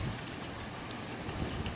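Soft, steady rain patters in the background during a thunderstorm, faint and continuous with scattered drops.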